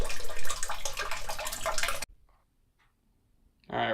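Water gushes loudly and steadily from an aquarium hose drained out of a fish tank, cuts off abruptly at about two seconds, then after a near-silent gap bursts back on briefly at the end.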